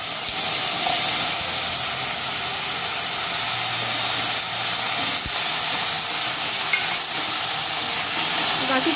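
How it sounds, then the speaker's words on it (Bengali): Raw gathi kochu taro pieces fry in a pan with hot oil and spices, giving a loud, steady hissing sizzle with faint stirring, close up and uninterrupted by voices. "শুধু কেটে ধুয়ে নিয়েছিলাম, এখন ফ্রাই করে নিচ্ছি।"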